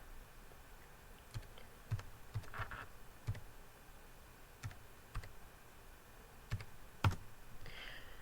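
A domain name being typed on a computer keyboard, quiet, irregular key clicks in small clusters over a low background hiss, close but faint.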